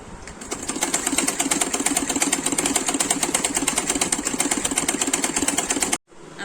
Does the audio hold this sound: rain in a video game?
no